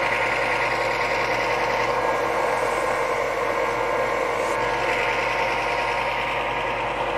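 A wood lathe spins a wooden spatula blank while it is tapered and rounded over. It gives a steady, close, whirring hum with a gritty cutting hiss that runs unbroken the whole time.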